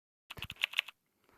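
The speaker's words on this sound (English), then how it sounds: "typing on like a computer or laptop keyboard sound" An Android keyboard's typing sound effect plays as a quick run of about eight crisp, close clicks in under a second, followed by silence.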